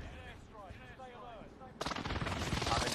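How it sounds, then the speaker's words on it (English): A video-game airstrike goes off as a sudden loud burst of explosions and gunfire, with dense heavy blasts and rattling shots continuing to the end; someone talks over quieter game sounds beforehand. "Airstrike. Watch that airstrike."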